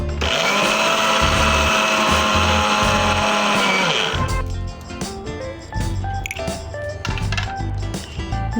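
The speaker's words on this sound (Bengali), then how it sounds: "জিরে গুঁড়ো আমার একেবারে মিক্সার গ্রাইন্ডারে মিহি করে গুঁড়ো করে নিয়েছি" A mixer grinder whirs at high speed grinding cumin seeds for about four seconds, then stops abruptly, leaving clattering and rattling in the jar.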